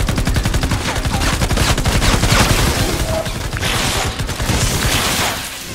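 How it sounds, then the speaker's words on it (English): Grenade blasts in the Fortnite video game form a dense, continuous barrage of loud explosive and gunfire-like bursts that fade slightly at the end. "Throw another grenade down there"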